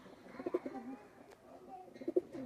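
Pakistani high flyer pigeons, a pair, coo softly nearby in two short bouts of throaty rolling calls, separated by a quiet pause.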